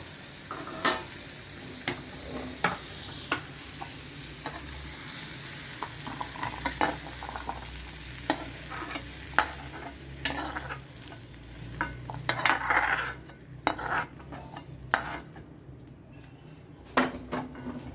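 Food softening as it is sautéed in oil in a pan, with a low continuous sizzle under repeated scraping and clinking of a spatula against the pan at an irregular rhythm, close by and without talk.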